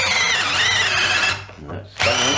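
A DeWalt cordless drill driver runs hard with a sharp bit in second gear, a loud steady whine that sags and nearly stops near the end before surging back to full speed.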